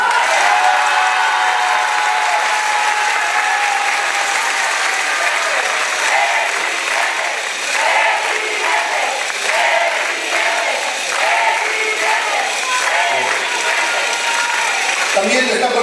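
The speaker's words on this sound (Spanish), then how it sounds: "para quien pido un fuerte aplauso" A large audience at a public event with a governor-elect applauds strongly, dense sustained clapping that fills the whole stretch with some crowd noise mixed in.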